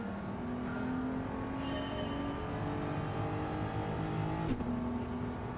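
A race car in Gran Turismo runs at full throttle through consecutive corners, its engine holding a steady high-pitched drone with a quick gear-change dip near the end, alone and without talk.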